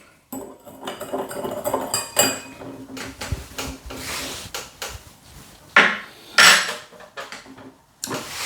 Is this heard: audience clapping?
no